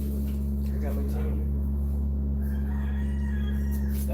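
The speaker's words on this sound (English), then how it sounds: "That rooster is not joking." A rooster crows during a Saturday health check and adoption event at an animal rescue, a drawn-out call heard at a distance over steady low hum and some nearby voices.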